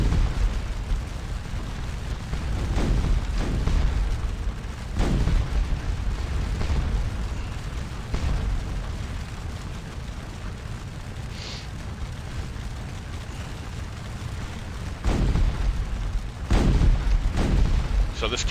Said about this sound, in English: we've got these full battalions opening fire on these guys now